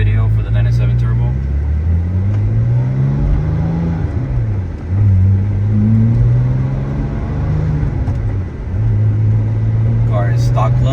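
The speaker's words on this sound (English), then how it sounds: "Alright, we're doing the driving portion of the video for the 997 turbo." A 2008 Porsche 911 Turbo 997.1 with a stock clutch drives and accelerates, its engine rising and falling in pitch through several pulls from inside the car, under steady talk.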